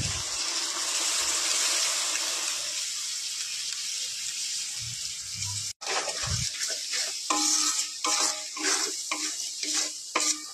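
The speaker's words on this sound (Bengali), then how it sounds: "একটু ভালো করে কষিয়ে নেব" Tomato paste and spices are stirred and sautéed in a pan, a steady sizzle at first, then scraping stirs and clinks of a utensil against the pan.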